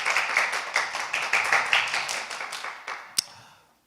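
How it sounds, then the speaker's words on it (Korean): An audience at a Korean religious gathering claps in a rhythmic, steady beat of unison hand claps that taper off, ending with one sharp louder clap and then silence. "우리 이마영 식구님을 위해서 큰 박수 한번 보내주시면 감사하겠습니다"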